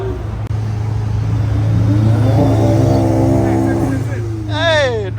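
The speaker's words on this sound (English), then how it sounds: "I really like the sound of the intakes" A car engine revs up loudly and close, its intake note rising and falling over a steady idle, with a sharp rising whine at the end; a person is speaking during it.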